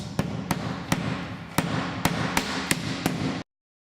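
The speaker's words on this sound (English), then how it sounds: "I'm going to attach the water return channel to the deck with nail clips every 12 inches" Nail clips are hammered into a roof deck to fasten a steel shingle water return channel: about nine sharp, ringing strikes at an uneven pace, close and alone.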